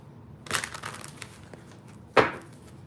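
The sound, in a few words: shuffling tarot cards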